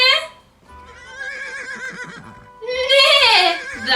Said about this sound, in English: A horse says neigh.